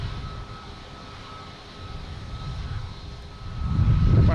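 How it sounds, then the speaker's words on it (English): A plane landing at Boston Logan Airport gives a steady low engine rumble that swells louder over the final second, with no talk. "so that plane came in, we weren't sure what it was"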